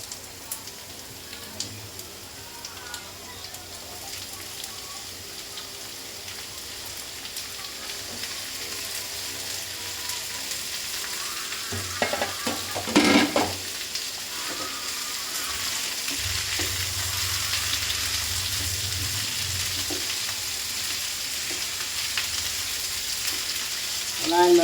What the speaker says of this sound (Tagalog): Ilagay na natin yung gulay natin, sayote.